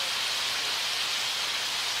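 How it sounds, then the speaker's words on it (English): A steady, close sizzling hiss of pumpkin and chicken frying in a hot pan, even and continuous throughout. "I'm going to start frying just some of the pumpkin and that in there with it"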